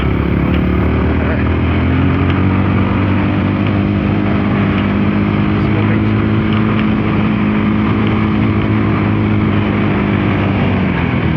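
A Voge 300 Rally motorcycle cruises at roughly 20-30 mph through a 30 mph zone, its engine a loud, steady drone under heavy wind rush throughout.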